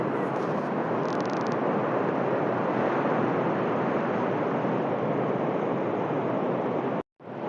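Sea waves washing up on a beach, a broad steady roar of surf and wind filling the whole stretch before cutting off abruptly near the end.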